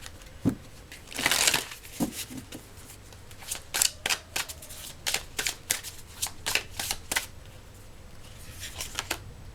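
A Quester Tarot deck is shuffled by hand, giving a long series of crisp, papery riffles and card slaps in an uneven rhythm, close and clear with no talking.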